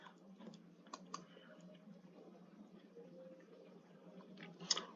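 A few faint, sparse computer mouse clicks sound over quiet room noise, with soft scattered taps and one sharper click near the end.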